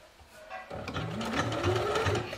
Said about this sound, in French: Et on va piquer au point droit.